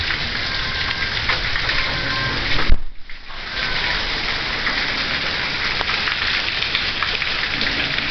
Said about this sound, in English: this is the storming, raining going on right now.